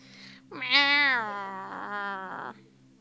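A cat at a horse rescue farm in Tenerife lets out one long, rising-then-falling meow after a brief faint cry, close and clear against a quiet low hum.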